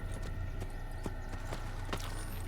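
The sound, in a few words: horse hooves clip-clopping in Assassin's Creed video game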